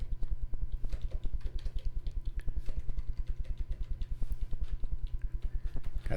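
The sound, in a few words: typing on a computer keyboard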